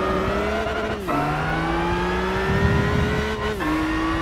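A Nissan Skyline GT-R V-Spec II Nür R34 accelerates in Gran Turismo 5, a loud, close engine whine climbing in pitch and dropping at each of two quick gear shifts.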